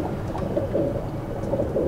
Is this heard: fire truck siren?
no